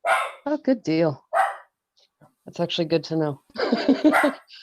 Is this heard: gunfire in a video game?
no